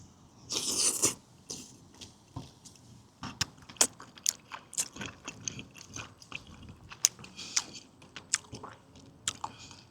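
Close chewing of raw fish sashimi from Masan fish market, a steady run of wet bites and soft crunches with squishy mastication and a few louder clicks, no talking.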